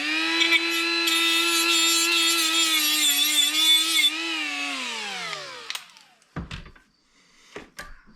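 An angle grinder works on rusted trunk metal of a 2011 Subaru WRX, a loud close whine holding steady pitch for about four seconds before spinning down, followed by a few sharp knocks and clatters.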